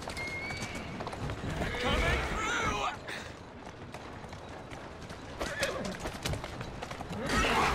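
Horse hooves clip-clop and a horse whinnies amid busy game-style effects in Assassin's Creed Syndicate, with someone speaking over the action.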